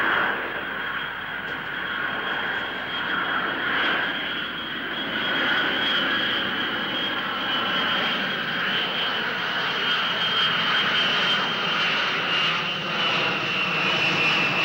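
A Boeing 747 jumbo jet roars steadily overhead on an extended landing approach to London, with a loud, sustained engine whine and broad rushing noise holding for the full stretch, no voices.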